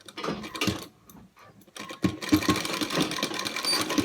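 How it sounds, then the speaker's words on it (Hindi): A sewing machine stitches cloth for a Laddu Gopal dhoti, running in close, loud bursts of rapid mechanical chatter after a brief pause, with no speech. "तो अब मैं इन्हें सिलाई लगा लूँगी"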